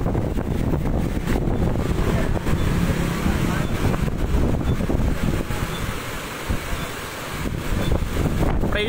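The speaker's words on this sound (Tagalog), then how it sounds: "Taytay Rizal po, lakas ng hangin sobra. Tsaka ulan dito rin po." Strong typhoon wind and rain in Taytay, Rizal, a continuous loud roar of gusts battering the microphone, with steady rain noise underneath and no let-up.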